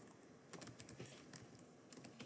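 Quiet keystrokes on a computer keyboard while a server name is entered during cloud instance setup, arriving in short irregular bursts with brief pauses between them.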